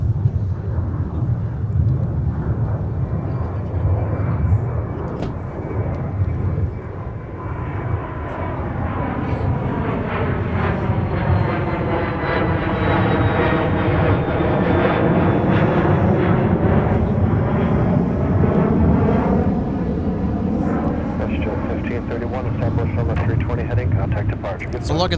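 A jet airliner at Minneapolis-Saint Paul airport rumbles loudly, its roar swelling and sweeping in pitch as it passes, holding a broad, continuous din over roughly twenty-five seconds with a voice occasionally present underneath.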